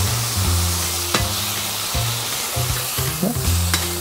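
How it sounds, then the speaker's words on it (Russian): Loud, continuous sizzling of bacon frying in a hot pan, crackling steadily with a few clinks from a utensil, close up. "Чем дольше вы будете жарить бекон"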